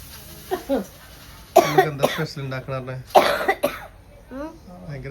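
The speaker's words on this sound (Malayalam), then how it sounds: "ചുമയാണല്ലോ" A few sharp coughs burst out in quick succession, close and loud, between stretches of nearby talking.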